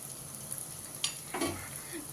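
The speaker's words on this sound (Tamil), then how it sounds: "இந்த ஸ்டேஜ் வேணாம், இன்னும் கொஞ்சம் வதங்கட்டும் வெங்காயம்." Onions sautéing in a pan for mushroom white biryani, a quiet steady sizzle with a couple of brief scraping stirs, close and faint, alone without talk.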